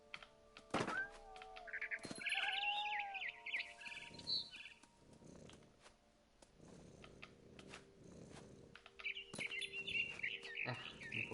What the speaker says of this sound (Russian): Тут я услышала за окном чириканье.